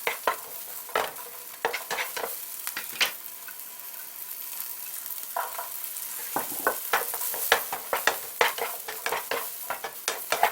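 Onion and celery sauté over low to medium heat for fish chowder soup, a soft background sizzle punctuated by frequent sharp clicks and taps of a utensil stirring against the pan, close and without talk.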